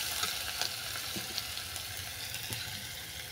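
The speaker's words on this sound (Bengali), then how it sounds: "রসুনটা হালকা করে ভেজে নিলাম।" Garlic paste fries in hot oil with a steady, even sizzle and faint crackles, close and continuous with no voices.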